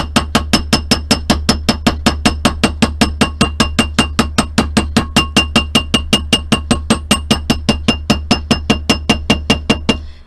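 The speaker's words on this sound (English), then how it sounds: "I'm just going to grab my chasing hammer and I'm just going to brace my mandrel against my work surface" A steel chasing hammer taps a metal wide band ring braced on a mandrel against a work surface, striking in a steady, quick, even rhythm of about fifty light metallic blows, close and loud, with no talking.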